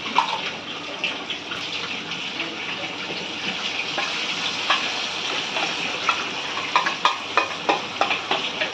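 Steady sizzling and crackling of prawns frying with roasted masala in a kadai, with occasional louder spits and pops toward the end, no voices.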